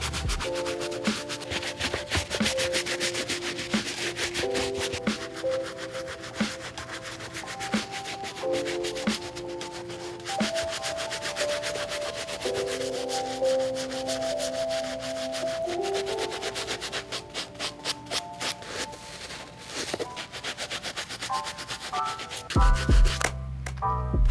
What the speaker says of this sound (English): So I will be hitting that with the medium bristle brush.